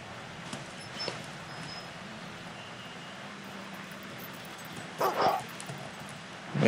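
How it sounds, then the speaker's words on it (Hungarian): A dog in the video game Fable 2 gives a few short barks and yips over quiet ambient game sound, with a louder burst of barking near the end. "Még egy ugatás."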